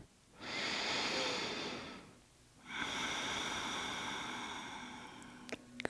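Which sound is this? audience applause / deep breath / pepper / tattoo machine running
deep breath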